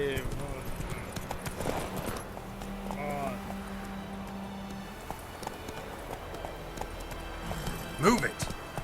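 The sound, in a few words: horse Roach galloping hoofbeats in video game The Witcher 3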